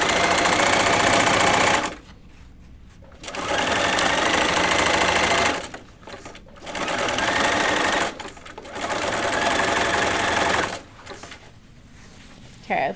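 A sewing machine stitches denim pull-on jeans in four steady, loud runs of a couple of seconds each, separated by brief quiet pauses, close up with no voices.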